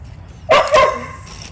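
A female dog barks sharply nearby, one loud bark quickly followed by a second. No one talks over it.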